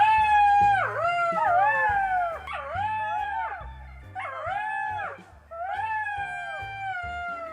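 Cartoon characters imitate jackal howls with their voices, a run of overlapping rising and falling wails in a chorus, repeated in several loud bursts over a low musical backing.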